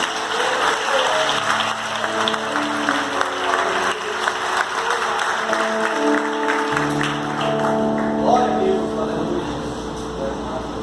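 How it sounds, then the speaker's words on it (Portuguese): A church congregation claps loudly and continuously during a Baptist service while sustained organ or keyboard chords ring underneath, the crowd noise steady throughout. "Aplauda o Senhor Jesus!"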